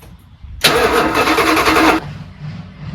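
A V8 engine in a Dodge truck cranks and catches as it draws fuel, roaring loudly for about a second and a half before settling into a quieter, rough idle.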